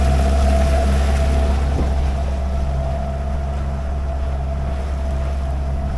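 A motor yacht running on the sea near Bozburun, its engine a steady loud drone with wind and water rushing over it, holding constant throughout with no voices.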